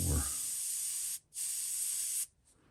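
An airbrush hisses as it sprays paint onto a custom Ghost Golden Ayu fishing lure, in two steady bursts of about a second each with a brief pause between.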